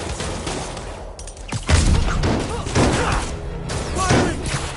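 Gunfire and a tossed smoke grenade in a Spider-Man video game, with dense loud bursts, thumps and a hissing rush over continuous background game noise.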